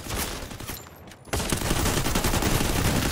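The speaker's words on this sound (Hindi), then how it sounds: "फिर से ताबड़तोड़ शॉट" Rapid, dense gunfire in Free Fire during a Clash Squad championship final: a loud barrage, a brief lull, then a sustained stream of close, overlapping shots.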